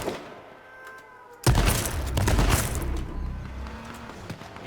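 Gunfire in the battle royale video game King of the Kill: after a quiet stretch, a sudden loud burst of shots and booming impacts, then a rumbling tail with a few fainter cracks.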